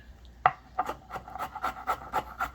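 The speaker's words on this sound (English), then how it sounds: "I'm going to just chop this little bit here and show you what the texture I'm talking about" Garlic is chopped by hand with a knife on a board, a steady series of quiet rhythmic chops and scraping taps close by with no talk.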